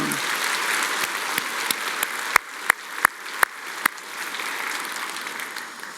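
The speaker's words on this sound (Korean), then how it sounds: "그 주님께 우리 박수로 함께 영광 돌리겠습니다" A church congregation at Sunday worship applauds in praise, a steady wash of clapping with a few sharp, distinct claps standing out partway through before it settles back.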